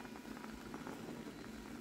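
Seriguela fruit syrup boiling in a pot, heard as a faint, continuous bubbling simmer with no talking.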